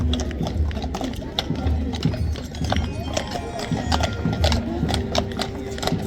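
Horses' hooves clop along during a mounted Republic Day parade by CISF handlers at a township in Jamnagar, a rhythmic, fairly close patter of steps beneath a steady spoken commentary.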